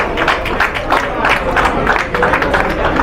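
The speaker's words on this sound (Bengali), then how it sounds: "জোরে হাততালি হয়ে যাবে একটা।" A crowd claps at a puja gathering in a steady, dense wash of applause, close and fairly loud, with voices mixed underneath.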